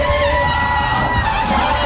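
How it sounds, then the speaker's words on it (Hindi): A crowd at the Gorakhnath temple chants slogans, a dense, steady roar of many voices close by with sustained tonal calls running throughout. It is brief and continuous, with no pauses. "पूरा गोरखनाथ मंदिर परिसर योगी आदित्यनाथ की जय और महंत अवैधनाथ अमर रहे के नारों से गूंजने लगा"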